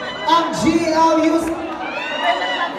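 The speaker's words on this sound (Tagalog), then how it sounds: "Palakpakan naman na may kasamang Hiyawan!" An audience cheering and whooping at a premiere night for a series starring David Licauco, Ruru Madrid, Teejay Marquez and Enzo Pineda; loud, sustained crowd noise with high shouts, and a host talking over it.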